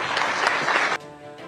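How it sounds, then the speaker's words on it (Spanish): An audience at a political talk claps briefly, a dense burst of applause for about a second that then cuts off sharply to a quieter room tone. "Un aplauso."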